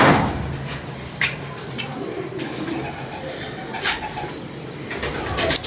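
Large pigeons cooing close by over a steady outdoor hiss, with a few soft coos and faint flutters through the stretch.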